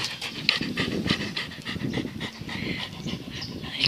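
A dog pants rapidly and steadily in a backyard, with quick rhythmic breaths close to the listener and continuing for the whole stretch, joined by a few faint bird chirps.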